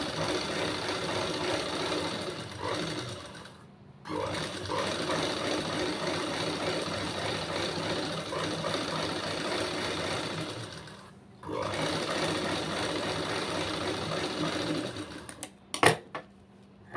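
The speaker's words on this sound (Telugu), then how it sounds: "మనం లాక్కొని నీట్గా ఇలా సెట్ చేసుకుంటూ కుట్టుకోవాలి" A sewing machine stitches the neck edge of a blouse in long steady runs, pausing briefly twice before a final short burst of stitching and a few clicks at the end, with no one speaking.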